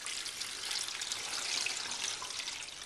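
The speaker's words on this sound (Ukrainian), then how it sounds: "Весь цей салат я заливаю звичайною холодною водою." Steady rush of cold tap water pouring and splashing continuously over salad, close and fairly loud, with no voices.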